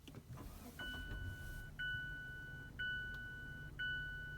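A 2017 Mazda CX-9 is started by push button inside the cabin, and a series of steady electronic chime tones repeats about once a second over a low engine rumble.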